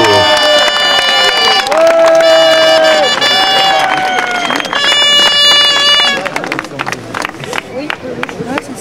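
A crowd applauding at a canoe-kayak awards ceremony, clapping and cheering in the background beneath loud music with sustained tones, with scattered claps growing more noticeable as the music drops away.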